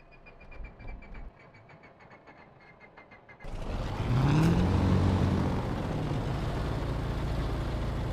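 Left engine of a P-38 fighter in a flight simulator game catches after a quieter spin-up with ticking, then jumps to a loud, steady roar with a rising whine as it settles into a rough, continuous run.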